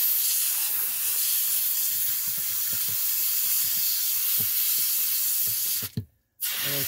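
Cleaning spray squirted around the edge of a stuck hot tub jet makes a steady, close hiss with faint small taps underneath, then a brief break near the end.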